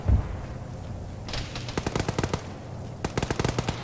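Machine gun fire in the military video game Arma, rapid bursts of sharp shots in two clusters, the second after a short pause, loud and close with a heavy thump at the start.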